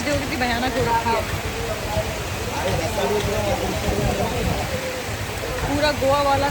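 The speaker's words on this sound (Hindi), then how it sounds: "धुआंधार बारिश हो रही है" Heavy rain pours down in Sri Lanka, a constant loud broadband rush with voices talking over it at times.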